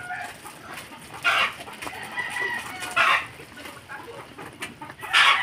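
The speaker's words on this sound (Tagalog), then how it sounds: "Nakakaano talaga yung mga manok" Chickens clucking nearby, several short bursts of clucking spaced a second or two apart over a low background hum.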